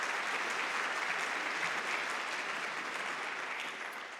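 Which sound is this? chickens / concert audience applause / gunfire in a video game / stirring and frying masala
concert audience applause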